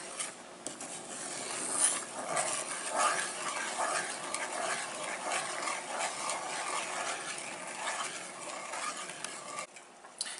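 A glaze of honey, brown sugar and butter heats in a pan and is stirred, giving a soft, steady sizzle with scraping and stirring strokes, close and continuous.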